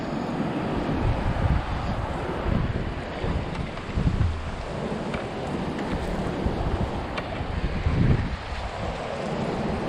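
Strong wind at a dam buffets the microphone in deep, rumbling gusts that rise and fall continuously, loud and close with no voices.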